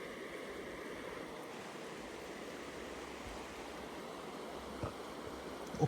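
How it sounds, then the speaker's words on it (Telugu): A Himalayan river at Sissu in Himachal runs beneath a snow cover, a steady, moderately loud rushing wash with a faint knock near the end and no voices. "కింద నీళ్ళు పారుతున్నాయి చూడండి."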